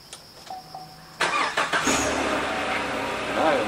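UTV engine cranks and fires up after a few faint clicks, then settles into a steady warming idle with slight revs, close and loud, with brief talk.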